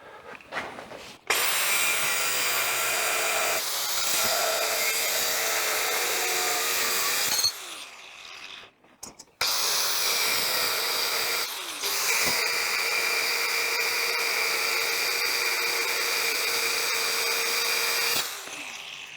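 Power cutting tool slicing through a metal pedal lever for a 1951 Chevy truck, a loud sustained whine in two long runs separated by a brief stop, close and without talk.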